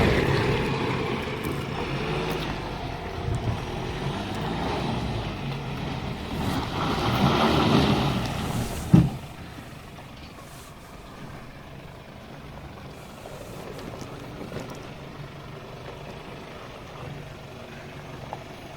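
Nissan NP300 pickup engine straining during a failed 4x4 hill climb: a steady, rough drone with wind buffeting the microphone, swelling louder before a sharp thump, then dropping to a lower, quieter rumble.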